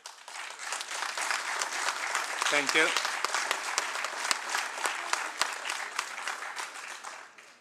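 A council chamber audience applauds in sustained, even clapping that carries steadily for several seconds before tapering, with a short spoken thanks partway through.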